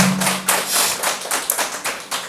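An audience at a Kulung cultural dance closing event applauds in uneven bursts of clapping, dense and fairly close, with no talk over it.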